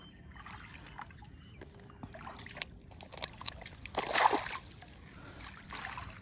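A snakehead fish just caught while fishing in Kerala is dropped back into the water, giving soft trickles and small sloshes that build to a brief louder splash near the middle, quiet and close.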